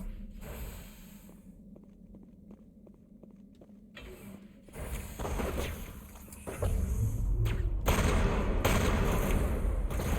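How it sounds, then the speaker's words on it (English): Elevator running inside a ship in Mass Effect, a steady low mechanical hum with faint rhythmic clicks, then a louder rumbling ride as the car moves, growing fuller and denser toward the end. "so elevator time"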